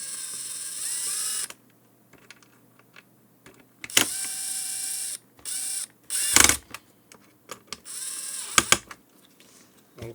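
Small screws being driven into a wireless RX/TX transceiver card for an HME drive-thru intercom, heard as close, quiet bursts of ratcheting screwdriver clicks and mechanical whirring, separated by pauses and near silence.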